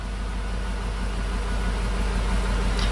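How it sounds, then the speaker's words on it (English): A Chevy 6.0L V8 with a cylinder 1 and 6 misfire idles in park, a steady low engine rumble heard close and continuous throughout. "start and idle engine"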